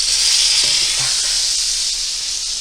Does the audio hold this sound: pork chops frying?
yes